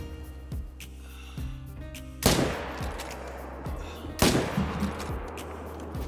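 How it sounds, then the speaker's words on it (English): Two sharp, loud rifle shots a couple of seconds apart, fired at a moose while hunting in Call of the Wild, each with a long rolling echo fading into the quiet outdoor ambience. "I'm gonna shoot it."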